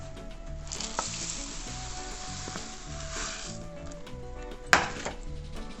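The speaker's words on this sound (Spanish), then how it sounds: "Seguimos revolviendo, que se mezcle todo bien" Oats being stirred into a thick oat turrón mixture in a pot, a steady close scraping and sizzling churn that runs throughout, with a sharp clatter of the spoon against the pot near the end.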